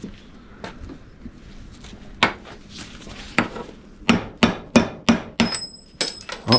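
Metal clinks and taps at first, then a series of sharp hammer blows lands in quick succession on cut brass and steel scrap, loud and close, ringing slightly.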